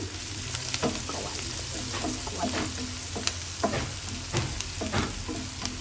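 Vegetables fry in a pan with turmeric just added, a steady close sizzle under repeated scraping stirs and spoon taps against the pan, no talking.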